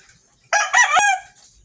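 A pet chicken gives one loud, drawn-out crow or squawk close to the microphone, rising sharply and fading after about a second, with no talking.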